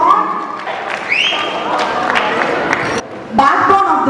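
A wedding audience claps for the bride's parents as they come onto the stage, a broad wash of clapping and crowd noise under a voice on the microphone.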